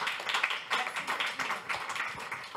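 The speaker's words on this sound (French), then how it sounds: "crois qu'on peut applaudir" Audience applause at a conference on data and the environmental transition: steady, fairly soft clapping from a room of people, continuous for a couple of seconds with no voices on top.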